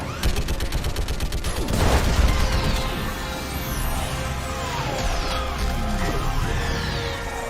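Sustained barrage of gunfire and heavy booming blasts in a Mass Effect 3 battle against a live Reaper, with dense overlapping shots, a big impact near the two-second mark and continuous loud rumbling throughout.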